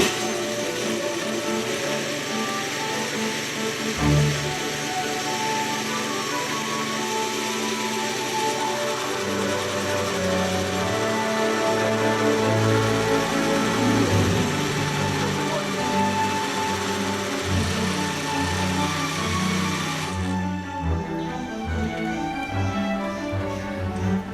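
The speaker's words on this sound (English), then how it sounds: "So we're going to put this on high on your blender." A blender runs on high, blending mango frozen pudding, a steady loud whirring motor hum that continues throughout, with a shift in pitch and tone near the end as the mixture smooths out.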